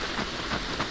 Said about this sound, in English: I can't hear you guys very clearly, you know, it's raining.